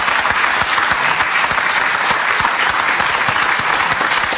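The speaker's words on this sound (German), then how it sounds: "Das hat auch von uns einen Applaus verdient, oder?" A studio audience claps for a ballet dancer in steady, even applause that holds at full strength throughout, loud and close, with no voices over it.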